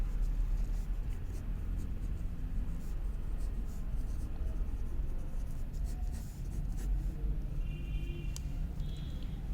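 Pen writing a title on a page during a data structures lesson, a steady faint scratching and tapping of strokes running throughout with no talk, against a low background hum.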